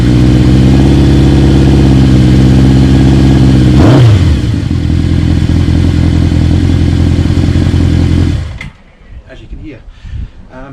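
Kawasaki KZ650 motorcycle fitted with new megaphone exhausts, idling loud and close with a throaty rumble, a sharp blip of revs midway, then cutting off to near silence.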